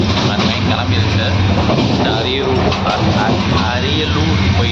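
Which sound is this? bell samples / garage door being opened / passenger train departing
passenger train departing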